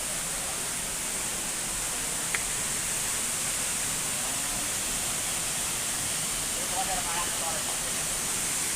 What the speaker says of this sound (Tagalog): Ito yung pinakaunang falls.